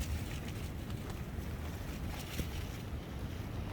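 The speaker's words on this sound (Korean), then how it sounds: "역시 바람이 세다." Strong wind gusting steadily over a campsite on Jeju Island, a continuous low rumbling roar with broad hiss and buffeting, no voices.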